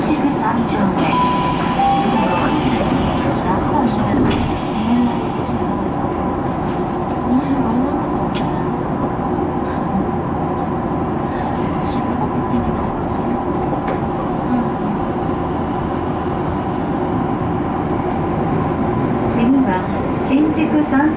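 A Tokyo Metro Fukutoshin Line F Liner express bound for Shinrin-koen runs between Shibuya and Ikebukuro, giving a loud continuous rumble and hum from inside, with voices over it.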